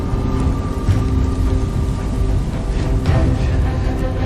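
Steady rain with low rumbling thunder in a dark night scene from a film, a continuous dense wash of downpour with a heavier swell near the end and no voices.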